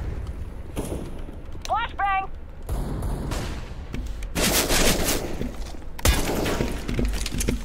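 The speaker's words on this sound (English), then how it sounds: "Deploying flashbang. Ramp. flashbang!" Gunfire and a flashbang grenade burst in the CS:GO video game, with sharp bursts and crackling blasts in quick succession, loud and close, amid game effects and a brief chirping tone.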